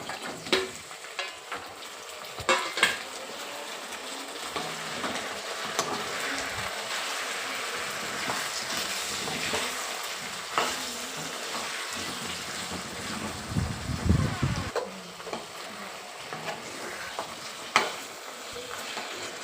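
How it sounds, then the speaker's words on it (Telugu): Boiled paya (trotters) frying with onions in a pan for Telangana paya curry: a steady, close sizzle that runs throughout, with occasional stirring scrapes and small bursts of crackle. "పాయన్ అనేది కొంచెంసేపు ఫ్రై చేసుకోవాలి."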